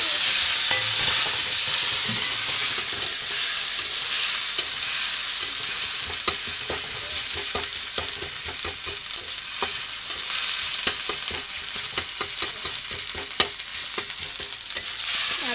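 Onion, ginger and garlic paste frying in oil in a pan, giving a dense, steady sizzle with frequent sharp clicks and scrapes from close stirring, and no talk.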